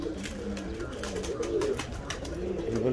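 Pigeons coo continuously over a steady rumble while being transported from the Bronx to Orlando, Florida, many low overlapping calls close by and fairly faint, with no one speaking.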